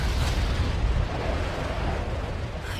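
A massive anime explosion destroys a castle, a dense, sustained roaring blast filling the whole stretch with heavy low rumble and no break, loud and alone.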